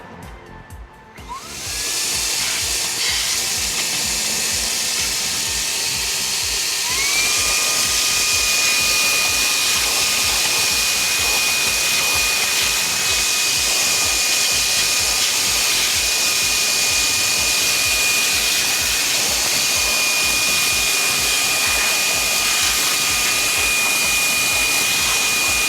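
A Fanttik Fold V10 Apex foldable car vacuum with its extension tube runs on high, a steady loud whine with a rising motor tone that settles into a continuous close drone, picking up rice grains.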